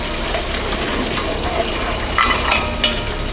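Slit green chillies and a handful of curry leaves sizzle and crackle in hot oil for Chettinad chicken biryani, a steady close frying hiss with a few sharper spattering pops and stirring scrapes.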